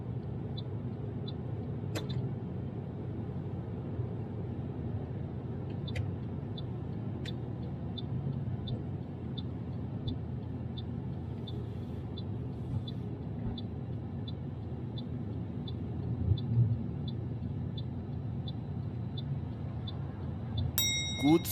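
A car drives steadily in traffic while changing lanes ahead of a right turn during a mock driving test, with a continuous low engine and road rumble, a faint regular indicator ticking and a couple of brief clicks.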